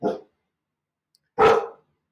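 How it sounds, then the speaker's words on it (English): A dog barks twice indoors, two short loud barks about a second apart with silence between, close to the microphone. "Got a dog barking."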